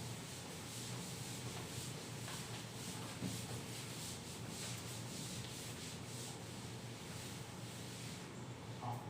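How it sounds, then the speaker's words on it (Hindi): A duster rubs writing off a classroom board during a maths lesson, a quiet, steady scrubbing sound with repeated strokes and no talking. "चलिए इसको अब मैं रब कर देता हूं।"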